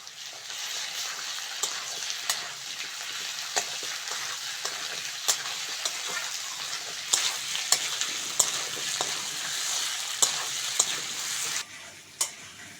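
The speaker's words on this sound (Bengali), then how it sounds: "আলু আর পেঁয়াজটা ভালো করে ভেজে নিয়েছি এবার আদা রসুন বাটাটা দিয়ে দেবো" Ginger-garlic paste frying in hot oil with potatoes and onions for a fish curry, a steady bright sizzle close by, broken by regular scraping taps of a spatula against the pan and a louder knock near the end.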